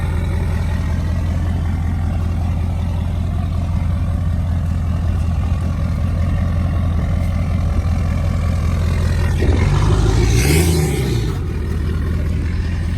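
A Ford F250 diesel truck with the muffler deleted drones steadily with a deep, loud engine rumble, and a brief rev swells near the end.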